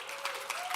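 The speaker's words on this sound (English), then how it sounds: "Give her a round of applause." Brief burst of audience applause at a video marketing talk, a fairly quiet patter of clapping hands lasting under a second.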